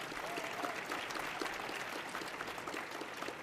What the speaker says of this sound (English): would you please welcome him with an extra special round of applause